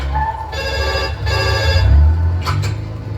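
A telephone rings in repeated electronic bursts during a call in a comedic Hindi movie spoof, with a low hum underneath and two short bright chirps near the end.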